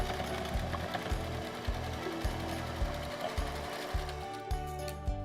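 A sewing machine stitches a zippered fabric pouch, its needle running in steady rhythmic bursts with brief pauses between runs, close and moderately loud with no talking.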